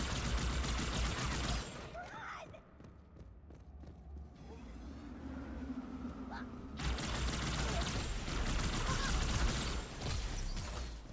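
Bursts of gunfire from Halo 2 Anniversary, loud volleys at the start and again in the second half with a quieter stretch between, mixed with mechanical clanks and game sounds.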